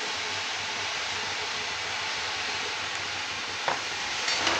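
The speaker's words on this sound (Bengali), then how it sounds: "এটা নেড়ে চেড়ে একটু ভেজে নিতে হবে।" Pumpkin frying with spices hisses in a steady, close sizzle, with a couple of stirring scrapes near the end and no voices.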